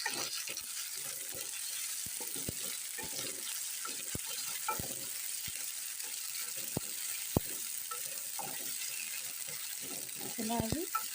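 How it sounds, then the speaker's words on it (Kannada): Paneer burji masala with tomato frying in a pan: a steady soft sizzle runs throughout, broken by scattered sharp clicks and taps of a spatula, with a brief busier stir near the end. "ಚೆನ್ನಾಗಿ ಫ್ರೈ ಮಾಡಿ."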